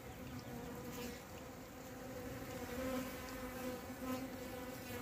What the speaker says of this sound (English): I think those are carpenter bees